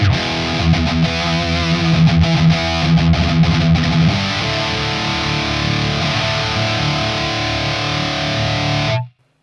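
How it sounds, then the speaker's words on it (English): Electric guitar run through a Kemper Profiler Player Mesa Boogie single rectifier profile, heavily distorted chugging riffs giving way to a sustained ringing chord that cuts off abruptly at the end, loud and close. "Mesa Boogie single rectifier."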